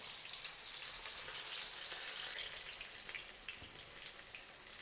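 Surmai (kingfish) fries gently on a low-medium flame, producing a soft, even crackling hiss that stays quiet and steady, like light rain, with no voices.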